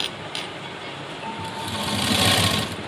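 Sewing machine stitching a piping strip onto fabric with a 1.25-inch margin, a fast continuous mechanical whir that swells slightly louder toward the end, close and alone.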